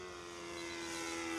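Nitro two-stroke radio-controlled model airplane, a 2.5 metre plane, flying overhead with a steady buzzing engine drone holding one pitch and slowly growing louder, with no voices.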